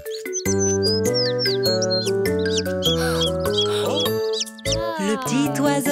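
Cartoon little bird chirping in a bright, high-pitched series of tweets over a steady musical backing, the chirps quick and repeated throughout.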